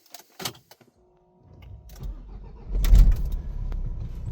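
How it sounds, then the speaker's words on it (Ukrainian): A Renault Espace 4 car engine turns over and catches after a quiet pause, rising from a low rumble into a louder, steady idle close by. "заводимо е, машину зараз"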